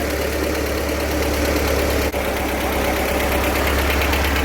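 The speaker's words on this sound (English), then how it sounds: "I like the noise of the motor." A 1970 Volkswagen Karmann Ghia engine idles steadily up close, a continuous low rumble with a slight ticking valve knock and no talking.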